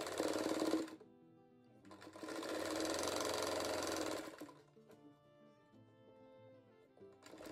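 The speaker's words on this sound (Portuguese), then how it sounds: "Vou costurando e arrumando." A sewing machine stitches fabric blocks for a 3D rug in quick, steady whirring runs: one short burst, a longer run of a couple of seconds, then a third starting at the end, with quiet pauses between.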